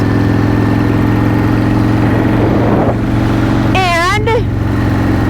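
Harley-Davidson Dyna Wide Glide motorcycle engine on the move, a steady low rumble with wind noise throughout, while a rider talks over it close up.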